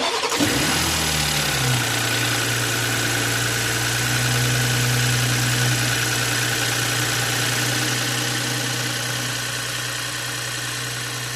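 A BMW X5 engine cranks briefly, then catches and settles into a steady, loud, close idle with a constant low hum. It runs on alone for several seconds, easing slightly toward the end.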